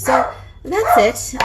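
A dog named Bentley barking indoors, short sharp barks, one early and a cluster near the end, mixed in with a person talking.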